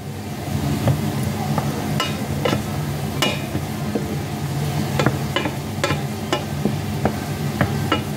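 String beans for ginisang sitaw sautéing in a pan, a steady close sizzle broken by repeated sharp clinks and scrapes of a utensil stirring against the metal, with no talking.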